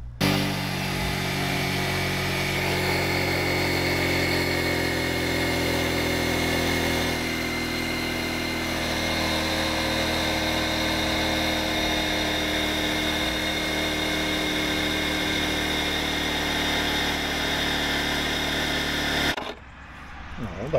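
Built-in air compressor of a Vevor electric car jack inflating a tyre, a steady, loud buzzing motor drone running continuously for about twenty seconds before cutting off abruptly.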